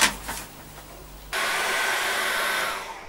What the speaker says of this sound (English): dry that very quickly with a hairdryer